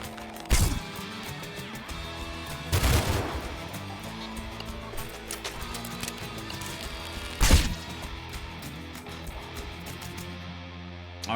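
Gunfire from enemies in the action game Arco, heard as three loud sharp bursts spread over the stretch against a steady layer of game music and effects.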